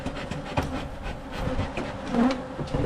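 A dense, steady buzzing of many bees being removed from a playground fills the clip, close and continuous, with occasional faint knocks underneath.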